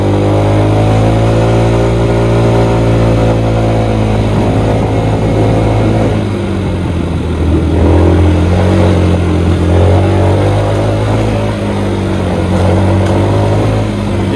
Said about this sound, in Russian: чуть ли не с нуля буду газовать, и он начнет разгоняться